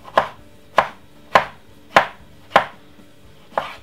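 A knife slices through a medium-sized tomato on a cutting board for a summer salad, giving six crisp, evenly spaced chops roughly every half second, close and clear with no talking.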